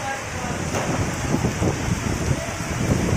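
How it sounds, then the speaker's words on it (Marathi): The first monsoon rain with gusting wind at Alephata, heard as a steady, loud rush of rain and wind noise with a voice talking over it. "पावसाळ्याचा पहिला पाऊस आणि वारा,"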